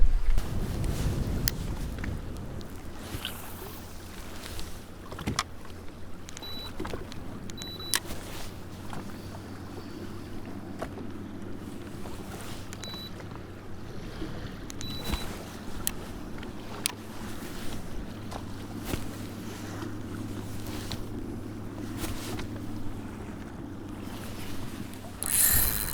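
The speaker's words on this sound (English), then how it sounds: "it's so windy I can't keep up" Steady wind buffeting the microphone out on the water while walleye fishing from a boat, a continuous low rumble with a constant engine-like drone underneath and occasional faint knocks, no talking.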